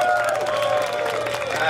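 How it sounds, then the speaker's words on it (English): An audience at a Jabari tribe show at Avengers Campus applauds its tribal leaders, a continuous patter of clapping and cheering at moderate volume that fills the whole moment. "Please give your tribal leaders a round of applause."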